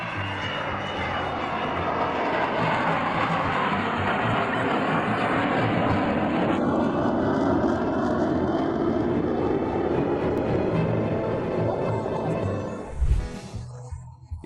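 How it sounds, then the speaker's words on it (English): An Avro Vulcan bomber flies at an air show with a loud, sustained jet roar that holds steady and then fades, ending in a brief thump and rustle near the microphone. "the Vulcan bomber displayed its power"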